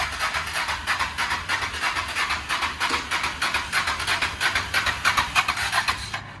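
A totaled Harley-Davidson Dyna motorcycle engine cranks over without starting, a close, rhythmic pulsing churn that holds steady for several seconds.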